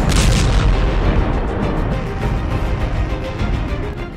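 Missile strike explosions from Iran's attack on Israel: a loud, deep booming blast that rolls into a sustained rumbling roar, slowly fading over a few seconds.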